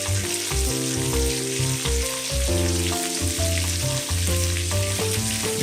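Fresh green beans sizzle and fry steadily in a hot pan, a dense continuous crackle with a few brief stirring knocks and no voices.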